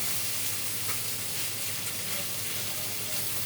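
Sweet pumpkin fries with cumin seeds in oil for a hilsa fish head and pumpkin ghonto, producing a constant close sizzle and hiss over a low steady hum, with no talking.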